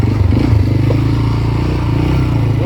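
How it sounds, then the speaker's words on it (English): ATV engine idles and chugs loudly close by in a steady, throbbing rumble with a rattling low drone that never lets up. "you should be able to hear me above this noise of this ATV"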